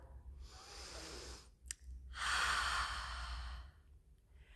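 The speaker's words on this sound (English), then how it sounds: "take a deep breath" A deep breath taken close by: a long airy inhale, a brief click, then a fuller, louder exhale that fades into quiet, with no talking.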